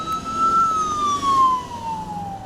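An ambulance siren wails steadily and loudly nearby, one long tone slowly falling in pitch as the vehicle passes along a cleared road corridor, with low traffic rumble beneath.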